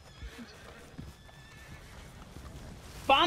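Horse hooves clopping softly with a game soundtrack in Red Dead Redemption 2, then a loud, bright horse whinny bursts in at the very end.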